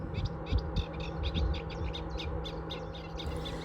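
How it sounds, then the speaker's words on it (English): A rapid, chattering series of common reed warbler notes repeats in quick rhythmic bursts over a steady low rumble of outdoor background noise by a canal. "And that's a common reed warbler."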